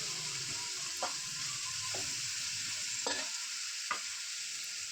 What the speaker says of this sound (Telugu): అది కొంచెం డీప్ ఫ్రై అయ్యేదాకా ఉంచుకుందాం